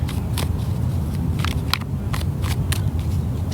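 Tarot cards are shuffled in a steady, close riffling rustle with brief snapping flicks, heard over constant outdoor background noise on a fine-weather day.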